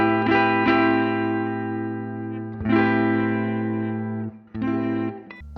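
A cheap old electric guitar played through a Neural DSP preset with spring reverb rings out three sustained, harmonically rich chords, each left to wash and decay before the next strum.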